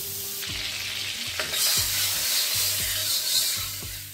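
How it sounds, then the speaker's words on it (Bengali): Amul butter sizzles in a kadai over a gas stove while a spoon scrapes and stirs it in a steady repeating rhythm, close and fairly quiet, with no talking. "এবার ওভেনে আমি কড়াই বসিয়ে দিয়েছি, আর এবার আমি নিয়ে নিয়েছি বাটার আমুলের। এখান থেকে আমি বাটার দিয়ে দেবো।"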